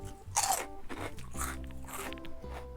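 A flour tortilla strip from a Cazo De Oro Las Ricas party mix is bitten and chewed, giving several close, dry crunches in quick bursts with no talking.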